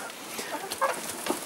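Several hens cluck softly and intermittently at close range while being fed sprouted grain, with scattered short calls over a faint rustling background.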